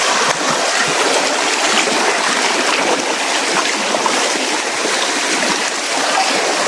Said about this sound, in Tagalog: Ito yung ilog dito.